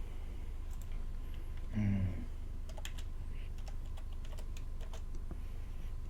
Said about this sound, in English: Sitting here typing on the wrong keyboard.